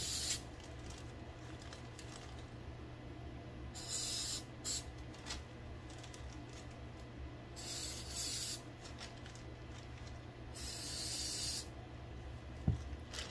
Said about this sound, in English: Then we'll spray the other piece.